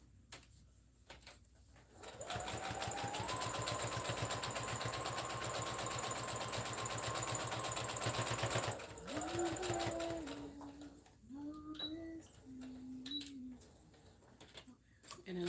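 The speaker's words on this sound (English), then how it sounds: "And then of course I back stitch when I get to the end" A sewing machine stitching in one long, steady, even run, then stopping as a voice talks over faint, brief mechanical clicks near the end.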